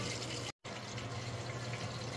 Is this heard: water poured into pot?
yes